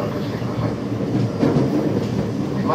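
An electric train on the Hokuriku Main Line runs toward Tsuruga station with a loud, steady rumble and faint rhythmic wheel clatter heard from inside the carriage.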